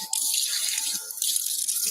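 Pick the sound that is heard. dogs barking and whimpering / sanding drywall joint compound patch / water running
water running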